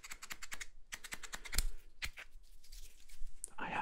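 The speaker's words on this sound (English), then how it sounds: "I have little scissors." Small scissors snip close to the microphone in an ASMR setting, with crisp rapid clicks in short bursts and pauses between them, then a soft rustle at the end.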